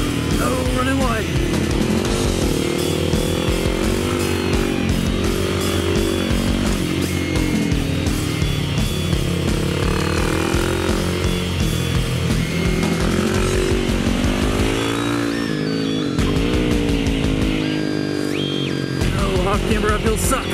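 A car engine on a race track held at high revs with the clutch slipping, a loud continuous roar whose pitch sweeps up and down throughout.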